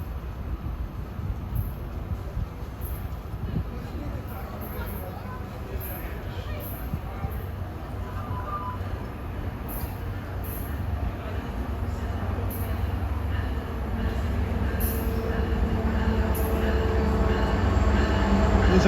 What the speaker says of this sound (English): coming into Millbrae at 3:48 is train 308. This is another train that goes to Gilroy